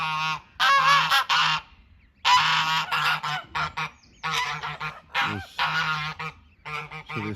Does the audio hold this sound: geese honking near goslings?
yes